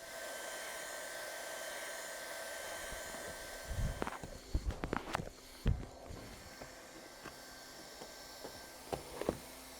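A hot air welding gun blowing a steady, even hiss while welding unsupported TPO roofing membrane around a vent pipe boot, with scattered handling taps and scuffs partway through.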